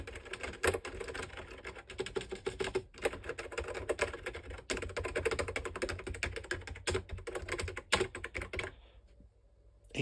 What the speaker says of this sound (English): Let's have a keyboard test.